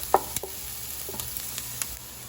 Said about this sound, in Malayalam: വെളുത്തുള്ളിയും കൂടെ ഇട്ടതിന് ശേഷം നമുക്കിതെല്ലാം ഒന്ന് നന്നായിട്ടൊന്ന് വഴറ്റിയെടുക്കാം.